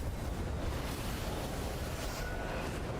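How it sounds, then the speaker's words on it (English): Constant loud rushing wind in the Genshin Impact video game, a dense unbroken whoosh filling the whole stretch with no talk over it. "Damn, it's getting heckin' windy."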